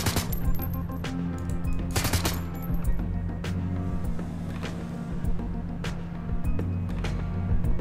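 Gunfire sounds in the video game Shadowrun: Hong Kong: sharp, repeated shots in irregular bursts over a steady low game hum.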